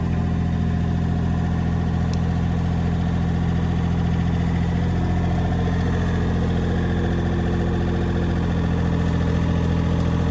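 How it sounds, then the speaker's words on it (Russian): Diesel machine with a telescopic boom running steadily, a loud continuous engine drone with deep low hum and no break, close by, no voices. "Давайте продемонстрирую, как у нас телескоп работает,"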